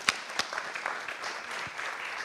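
Audience applause at a high-level panel session of a business and nature summit, a short, scattered burst of clapping with a few sharper hand claps standing out over the even patter.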